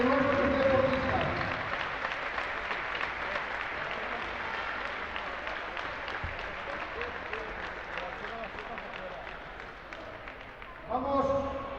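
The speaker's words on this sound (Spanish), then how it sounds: "Un fuerte aplauso, porque ellos son los responsables de la formación de nuestros deportistas." A crowd at a volleyball club's season presentation gives sustained applause for the coaches, a continuous wash of clapping lasting around ten seconds, with a brief swell near the end.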